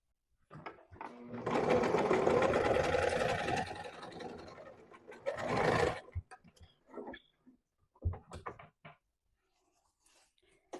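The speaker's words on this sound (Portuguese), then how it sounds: "O primeiro passo que nós vamos fazer é passar uma costura nessa lateral, fechando o nosso cos." A sewing machine runs in one sustained burst of rapid stitching along a side seam closing a waistband, then a shorter run, followed by quiet handling clicks and rustles.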